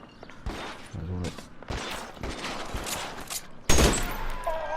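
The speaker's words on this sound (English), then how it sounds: "Oh, it's a machine gun." Machine gun fire in the video game LA Noire comes as several loud bursts. They are spaced across the stretch, mixed with shouting voices and scattered impacts, and the final burst is sharper and closer.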